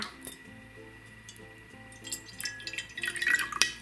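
Water poured into a small toy bath for dolls, a faint trickling and splashing with light clinks, growing busier toward the end, with no talking.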